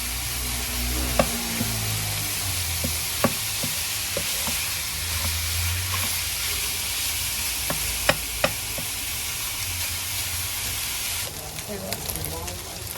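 Steady loud sizzling of ingredients for Kayseri yağlama frying in a pot, with occasional crackles and faint stirring clatter throughout.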